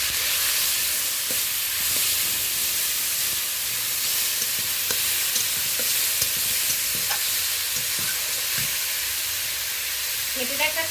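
Grated onion with a spoonful of black cumin frying in hot oil, a steady broad sizzle with occasional stirring clicks and scrapes throughout, no one talking.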